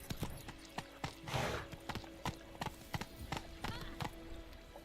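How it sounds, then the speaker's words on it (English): A horse in The Witcher 3 video game trots with steady, crisp clip-clopping hooves, fairly quiet, with a brief whoosh of wind partway through. "Whoa there, Roach"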